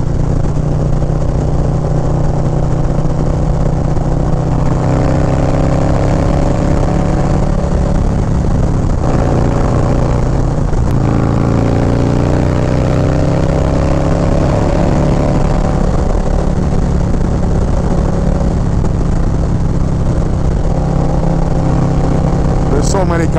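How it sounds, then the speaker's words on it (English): A Harley-Davidson Low Rider ST with a 131 engine rumbles loudly at highway speed, its pitch rising in several pulls as the throttle opens, with wind noise and a rider talking over it. "Crack the throttle. And she just wants to go."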